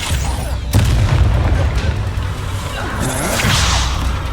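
Petrificus Totalis spell cast in Hogwarts Legacy: a deep booming impact with a sharp whoosh, followed by rumbling and a bright shimmering magical burst near the end, loud and close.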